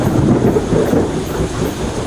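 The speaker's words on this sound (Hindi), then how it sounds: "बिजली की कड़कड़ाहट के साथ" Thunder rolls during a rainy night storm as a loud, deep, continuous rumble that swells and eases over about two seconds, with no voices.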